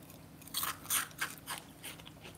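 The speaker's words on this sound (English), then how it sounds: "Do you want to eat the cheese crunchy first?" A crunchy cheese snack being bitten and chewed close up, with several sharp, separate crunches over a couple of seconds, fairly quiet and with no voices.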